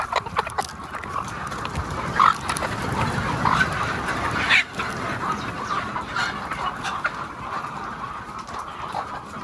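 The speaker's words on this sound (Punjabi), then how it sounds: "ਕੁਝ ਮੁਰਗੀਆਂ ਇਸ ਵਕਤ ਵੀ ਮੌਜੂਦ ਨੇ ਅੰਡੇ ਦੇਣ ਵਾਸਤੇ, ਜਿਹੜੀਆਂ ਬੈਠੀਆਂ ਹੋਈਆਂ ਨੇ ਅੰਡਿਆਂ ਤੇ" Laying hens on a poultry farm, a busy chorus of clucks and soft calls from many birds with a few sharper squawks standing out, steady barn ambience and no talking.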